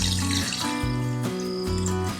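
Water is poured into a pot of crab curry (a rustic crab rassa) on the stove, a steady continuous splashing fill with a shifting tonal resonance lasting about two seconds, close by and with no talk.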